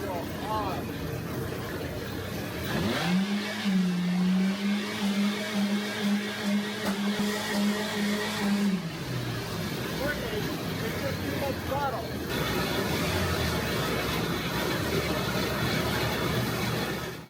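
A small snow blower engine drones and rises in pitch for several seconds, then drops back, with a person talking over the running motor.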